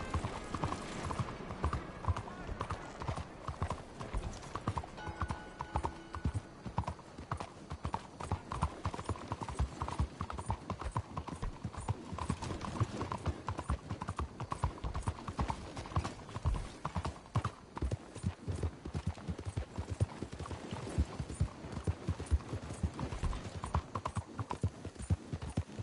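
Steady, rapid clip-clop of horse hooves trotting continuously for the whole stretch, mixed with a dense, busy background, in the video game Red Dead Redemption 2.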